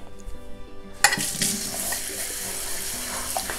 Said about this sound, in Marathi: तर मी आता हे नाचणी धुवून घेते